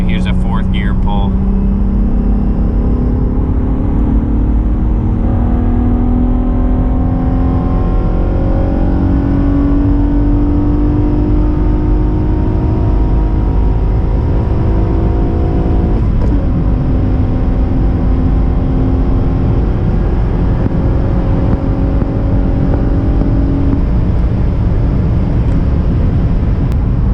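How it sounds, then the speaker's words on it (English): A car engine revs hard through a fourth-gear pull into VTEC, its pitch climbing steadily, with a voice talking over the roaring engine. "it just makes the VTEC just pull so much harder on top"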